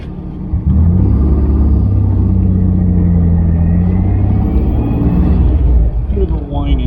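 An MGB fitted with a Camaro V6 conversion pulls away on the road, its engine droning loud and close with a steady low rumble that rises as it accelerates, continuing evenly until a brief shift near the end.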